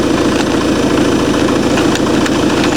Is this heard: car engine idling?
yes